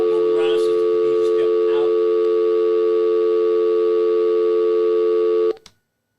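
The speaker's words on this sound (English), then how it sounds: "Let me get this other phone" Steady telephone line tone on a radio call-in show, loud and continuous for several seconds before cutting off abruptly, with brief faint voices underneath at the start.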